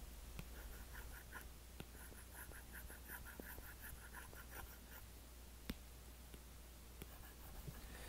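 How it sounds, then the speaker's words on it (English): Apple Pencil 2 stylus drawing on an iPad screen, a faint close series of soft tapping and scratchy strokes with small clicks, heard alone in a quiet room. "I am showing you what the Pencil sounds like when you're actually drawing with it"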